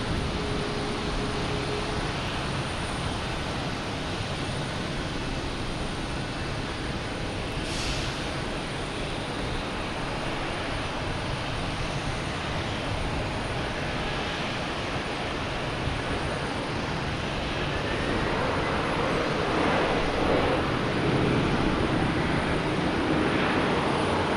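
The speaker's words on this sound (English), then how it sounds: "Now we have Iceland Air coming in from Keflavik, 767, flight 631." An Icelandair Boeing 767 arriving from Keflavik at Boston Logan, its engines a steady, moderately distant broadband roar that holds throughout and swells slightly toward the end, with no talk.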